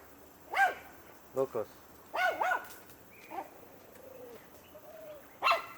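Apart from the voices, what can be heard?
dogs barking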